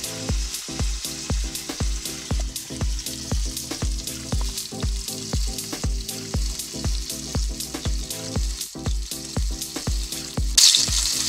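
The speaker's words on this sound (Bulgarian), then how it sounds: "На вече загрятия тиган почваме да пържим месото." Veal frying in a preheated pan gives a loud, steady sizzle right up close, overlaid by a regular pulsing thump throughout and a brief brighter spatter near the end.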